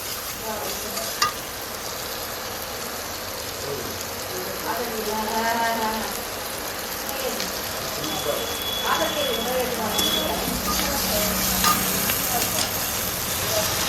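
Fried prawns and pumpkin stir-fried in a pan for a prawn and pumpkin curry, giving a steady close sizzle with scraping stirs throughout and a brief voice-like tone partway through.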